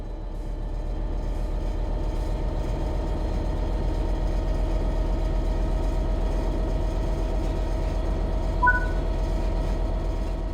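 A train's traction motors drone steadily under power in Train Sim World 3, a low, continuous rumble with a faint rising hum and rolling rail noise, and a brief soft chime near the end.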